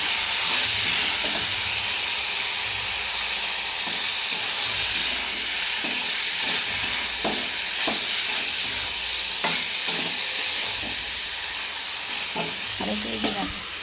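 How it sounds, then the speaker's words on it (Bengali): Mutton sizzles and fries steadily in a hot pan while being stirred and sautéed with spices, the loud hiss continuous throughout and broken by intermittent clacks and scrapes of a spoon against the pan. "এখন এটা কষানো হচ্ছে"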